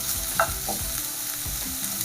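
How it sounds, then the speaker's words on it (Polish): Onion sizzles steadily in a hot pan while a utensil stirs, giving a few soft scraping taps over the continuous frying hiss. "i będę smażyć parę minut"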